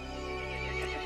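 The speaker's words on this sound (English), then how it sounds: "The horse grew angry and summoned the other monsters." A horse in the video game Resident Evil Village gives a single sustained neigh, loud and close, with a clip-clop rhythm faintly underneath and no talking.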